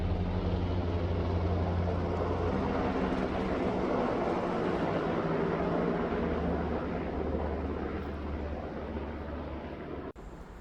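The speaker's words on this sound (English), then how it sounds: "every so often the calm is broken by a low-flying helicopter" A low-flying helicopter passes over a river by a historic railroad area, a steady loud broadband rotor and engine roar with low throbbing hum, holding for about ten seconds before tapering slightly and cutting off.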